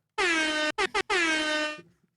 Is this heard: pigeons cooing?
no